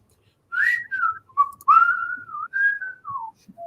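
A person whistling a short wavering melody of several sliding notes, close and clear, alone in a quiet room.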